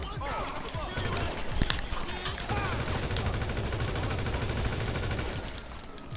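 Gunshots in a gang-versus-police video game come as a steady crackle of rapid, overlapping shots at moderate level, with a player's voice in the mix.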